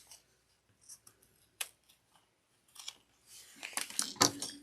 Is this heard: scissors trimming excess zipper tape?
yes